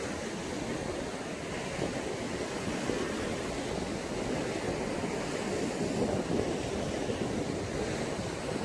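Strong sea waves surge and wash continuously at Mae Ramphueng beach by a white rock ground in Rayong, a steady broadband roar mixed with wind buffeting, with no voices heard.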